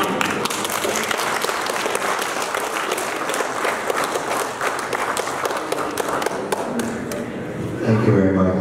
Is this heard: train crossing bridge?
no